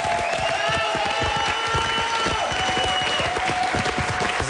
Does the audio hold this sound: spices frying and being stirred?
no